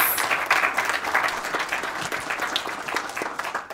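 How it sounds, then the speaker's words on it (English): Applause from the audience at a city council regular meeting, held for seventh-grade student entrants: dense, steady clapping from many hands in a room, fairly loud and sustained throughout, with no talk over it. "Let's give all these students one last round of applause for their entries."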